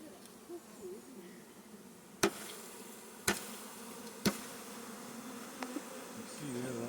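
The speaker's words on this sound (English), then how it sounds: "be aware that the bees in the bottom are going to come flying off" Honeybees lift off a hive frame in a soft, steady buzzing hum, broken by three sharp knocks about a second apart and a few lighter taps near the end.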